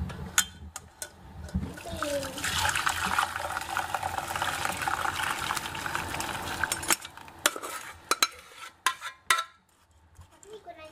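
Boiled sauce for Palembang pempek is strained through a sieve: liquid splashes and trickles with scraping and stirring against a metal utensil, then several sharp clinks and knocks of kitchenware toward the end.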